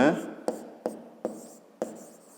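Chalk or pen strokes writing a geometry solution for a fifth-grade maths exercise, four short scratchy taps at roughly even spacing, close and clear, with a faint voice in the background.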